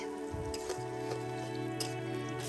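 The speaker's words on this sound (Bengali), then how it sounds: "এবার রান্না ভেজে নিচ্ছি কুচি করা পেঁয়াজ" Chopped onions sizzle and crackle steadily in a hot pan, a soft continuous fry with occasional pops under a low humming tone.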